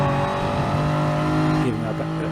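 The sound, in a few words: Gr. 3 race cars in Gran Turismo Sport video game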